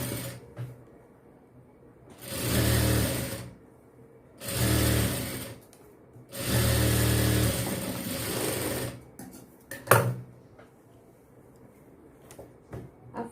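A sewing machine stitching a blouse runs in three distinct bursts of rapid whirring, separated by quiet pauses with soft mechanical clicks and handling noises.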